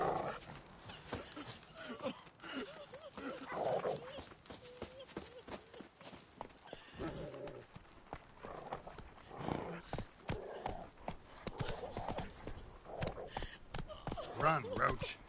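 Horse hooves clip-clopping at a gallop in The Witcher 3: Wild Hunt, a steady drumming rhythm mixed with game music, dog barks and effects, while voices speak over it.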